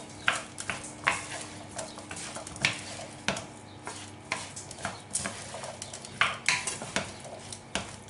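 A utensil stirs rice and chickpeas in a frying pan, giving repeated scraping and clinking strokes in an uneven rhythm, close and moderately loud, with a soft sizzle underneath and no voices.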